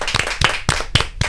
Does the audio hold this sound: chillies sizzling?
no